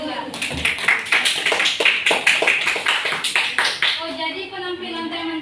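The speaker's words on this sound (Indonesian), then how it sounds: "Berikan aplaus buat kelompok 2." A classroom gives applause for group 2, a dense burst of many hands clapping close by for several seconds before it dies away into voices.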